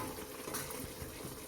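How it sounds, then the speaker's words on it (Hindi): Spice masala for beef paya fries in a pot with a soft, continuous sizzle and stirring, faint and close, with no talk. "मसाला भून रहा है हमारा।"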